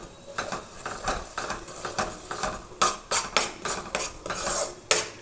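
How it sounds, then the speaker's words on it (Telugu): A spoon scrapes and clinks against a cooking pot, stirring ginger garlic paste for Nellore fish curry in steady repeated strokes, close and fairly loud with no talk. "వేసి ఒకసారి బాగా మిక్స్ చేసుకుందాం"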